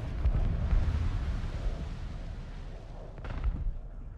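A missile strikes a player in a video game, giving a heavy, rumbling explosive roar that fills the clip and swells again with a second burst near the end, loud and close.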